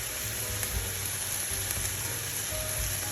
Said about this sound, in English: Adding the bay leaves and the minced garlic. Saute for a minute